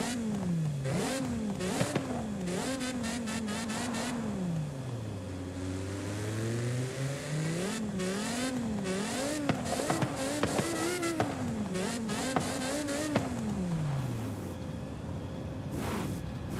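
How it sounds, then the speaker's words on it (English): Lexus LFA V10 engine in Forza Horizon 5, revving hard in rising and falling sweeps, with a shrill climbing howl, a deep dip in pitch midway and quick blips, loud and continuous without talk. "LFA also has like a really iconic sound"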